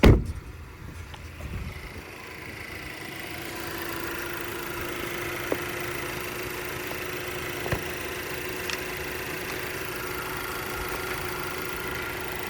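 A 2024 Chevy Malibu LT's 1.5-liter turbo Ecotec four-cylinder settles into a steady, smooth idle after a brief start-up surge, a close, even hum with a few faint clicks.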